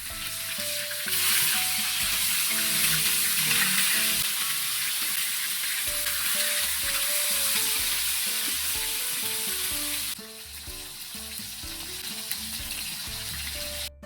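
A pot of broth bubbles and hisses steadily at a hard boil, a close, crackling sizzle that drops in level partway through.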